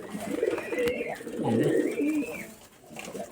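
Soft, throaty cooing of Rajshahi Giribaz pigeons, a pair being sold, in a few rolling phrases close by with faint background noise.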